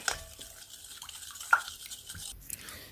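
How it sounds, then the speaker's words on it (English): Powders for a skin lightening lotion are stirred together in a container, giving soft, quiet scraping and stirring strokes with a few light clinks of utensil against the vessel, close by and with no voices. "So you mix the powders together"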